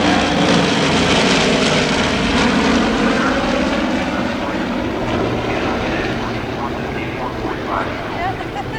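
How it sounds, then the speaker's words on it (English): A four-engine Lockheed Super Constellation propeller airliner, 3,400 horsepower per engine, drones loudly and continuously nearby, a thick, steady roar that eases slightly toward the end. "Look at the wingtip tanks and the big four-engine airliner."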